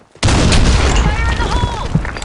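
Grenade explosion in the video game BlackShot: a sudden loud boom bursts in after a short quiet moment and rumbles on, with gunfire and game sounds mixed into the tail.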